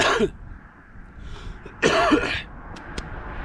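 Two separate coughs, a short one at the start and a louder burst near the middle, with faint outdoor background between them.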